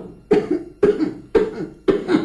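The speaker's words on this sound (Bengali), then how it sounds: "আপনি কাশছেন কেন?" Four sharp coughs come at an even pace, each a short harsh burst followed by a brief pause, close and clear.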